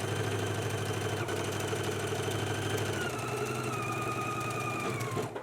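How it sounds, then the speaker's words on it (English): A sewing machine running steadily as it stitches a jacket sleeve seam with a 5/8 inch seam allowance, a close, continuous motor hum and rapid needle rattle that shifts slightly in pitch near the end. "let's stitch using a 5/8 inch seam allowance"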